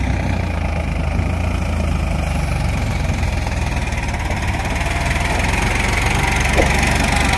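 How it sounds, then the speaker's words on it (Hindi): A Mahindra 575 DI XP plus tractor hauling a fully loaded trolley runs steadily, its diesel engine giving a loud, continuous knocking drone with a low throb that stays even throughout, and no voices. "महिंद्रा 575 DI XC+ आ रहा है फुल लोडिंग ट्रॉली में, अपना पावर दिखाएगा"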